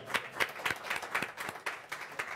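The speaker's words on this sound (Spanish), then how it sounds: "Un aplauso a Alberto Mayol, por favor." A studio audience applauds a guest on a talk show with quick, fairly faint pulsing claps for a couple of seconds.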